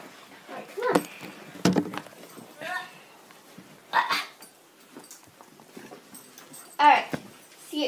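A puppy gives brief whimpers and a few short yips in scattered bursts, fairly close, mixed with quiet human talk in a calm indoor room.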